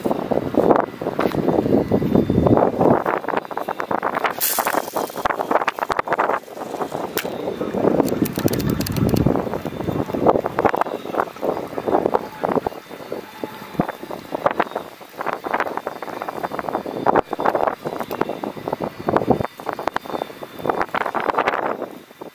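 Strong storm Ciaran wind buffets the microphone during lure fishing at Charleroi, loud gusty roaring that rises and falls continuously, with occasional rustles and handling noise and no clear talk.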